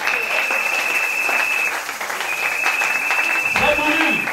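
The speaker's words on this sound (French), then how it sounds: "Sous vos acclamations," A church congregation at a Sunday school gathering in the William Marrion Branham Tabernacle claps in steady, dense applause that carries on throughout, with a thin high ringing tone over it and voices underneath.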